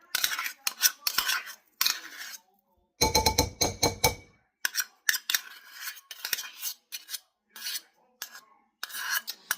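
Metal spoons scrape and clink against a bowl while scooping shea butter and coconut oil, giving close, irregular bursts of grating and tapping with a dense rasping stretch near the middle and brief silences between strokes.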